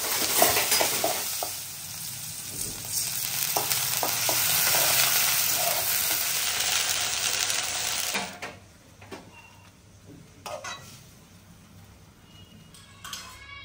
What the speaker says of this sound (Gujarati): આ લાગી ગયો આપણો મીઠા મીઠા ખમણનો વઘાર.